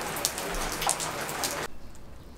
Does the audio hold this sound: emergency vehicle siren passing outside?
no